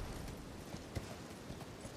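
Hooves of Torrent, the spirit steed in Elden Ring on PS5, gallop in a steady, faint clip-clop rhythm of soft low thuds, with one sharper hoof strike near the middle.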